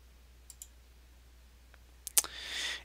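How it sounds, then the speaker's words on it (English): A computer mouse gives a few sharp, close clicks, a pair early on and a quick double near the end, against a quiet background followed by a brief soft hiss. "and we go ahead and click Start."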